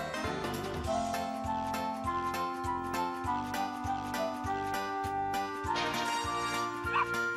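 A puppy barks and yips in the video game Arc the Lad 3, a few short calls mixed into looping game music with a steady beat and sustained tones.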